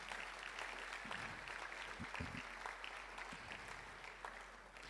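A church congregation at an Easter seminar claps steadily throughout, dense applause with a few sharper hand claps standing out, fairly distant and even in level.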